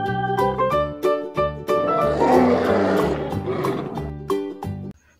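A toy lion gives a loud electronic roar, repeated in several bursts with short gaps, close and clear, then cuts off near the end.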